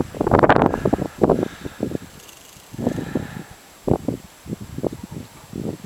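Gusty February wind of up to 10 metres per second buffets the microphone behind a house in the settlement of Novoekonomicheskoe, arriving in a series of uneven, rumbling bursts with brief lulls between them.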